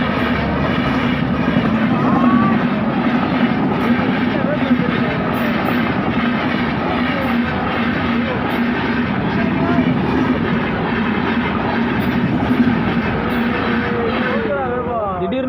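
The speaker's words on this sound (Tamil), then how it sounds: "திடீர்னு சடனாக பார்த்தீங்கன்னா இந்த மாதிரி ட்ரெயின் போகிறது எங்களுக்கே ஒரு அதிர்ச்சியை கொடுத்துருச்சு" A train rumbles past near Dindigul, loud and continuous, with rattling wheels and a steady roar, while people talk over it throughout.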